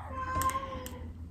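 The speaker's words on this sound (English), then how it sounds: "That's my cat." A cat meows faintly in the background, a couple of short tonal cries over a steady low hum.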